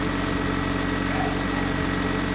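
Chevrolet Corsa Win 1.6 engine, recently repaired, running steadily with a low throbbing drone and mild vibration, close and fairly loud with no clear rev peak.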